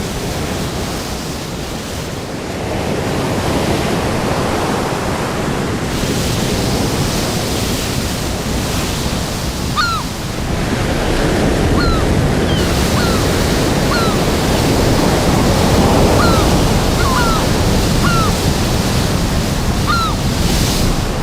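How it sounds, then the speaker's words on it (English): Heavy ocean surf pounds remote islands under gale-force winds, a dense, continuous roar of crashing waves and rushing wind, loud and close throughout, with faint bird calls cutting through now and then. "winds race unchecked around the open oceans, reaching 120 miles an hour until they crash into these islands"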